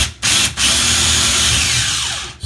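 A power drill drives a Phillips screw through a Kidde smoke detector mounting plate into a ceiling, whirring steadily for about two seconds between short pauses, close and loud.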